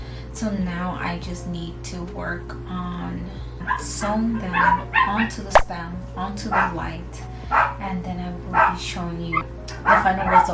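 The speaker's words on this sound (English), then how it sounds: "So excuse my dogs, they're always barking." Three pet dogs barking, yipping and whimpering indoors in a home craft space, sharp repeated yaps scattered throughout while someone talks over them.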